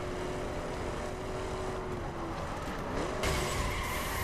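A steady, droning helicopter engine and rotor whir in the video game The Crew fills the scene continuously at moderate volume, with a brief shift in tone near the end.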